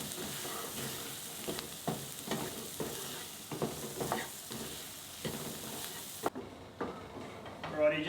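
Capsicum and grated cauliflower sautéing in a pan for Mumbai-style pav bhaji, a steady sizzle broken by repeated scraping stirs, close and moderately loud, with a voice speaking over it.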